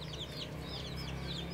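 Native chickens clucking and calling in a continuous, busy flock chorus, fairly close, over a steady outdoor background.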